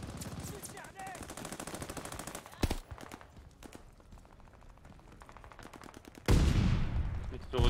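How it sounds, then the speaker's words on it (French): Rapid automatic gunfire in Call of Duty Vanguard, with dense rattling bursts, a few sharper single shots and a loud heavy blast near the end, under faint voices. "Mais arrêtez de me tirer dessus, vous êtes chiant"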